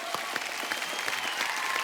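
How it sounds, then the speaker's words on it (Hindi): Studio audience on a TV comedy show claps loudly and steadily, a dense, continuous wash of applause from a crowd. "एक बार जोरदार तालियां"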